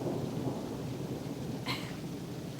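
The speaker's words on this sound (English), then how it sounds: "Do you hear that thunder?" Thunder rumbling outdoors as a low, continuous roll, moderately loud and steady, with rain hissing in the background and a brief sharp crackle near the end; no voices.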